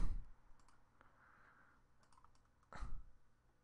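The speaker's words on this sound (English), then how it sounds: "we're typing it in" Faint, sparse clicks of typing on a computer keyboard come in a few short bursts, with a louder knock at the start and another near the end.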